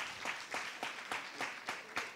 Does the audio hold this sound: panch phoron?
no